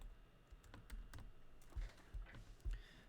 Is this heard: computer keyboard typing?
yes